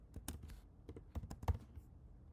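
Quick bursts of keystrokes on a computer keyboard while a recipient's name is entered, close and crisp, with uneven rhythm and short pauses, no talking.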